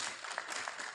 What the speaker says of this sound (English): Okay, maybe just a round of applause for Dr. Honoria.